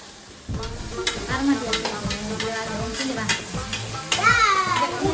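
Tomatoes and green chillies sizzle and fry in a home kitchen pan with steady stirring, a loud continuous hiss with scraping strokes, while children chatter and play nearby.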